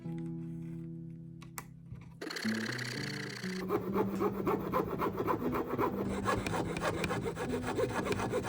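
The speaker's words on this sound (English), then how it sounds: "I'm gonna use a coping saw to cut these out anyway" Coping saw cutting out a small wooden guitar part, starting after a brief drill whir, then quick rhythmic back-and-forth rasping strokes, close and steady to the end, with no talking.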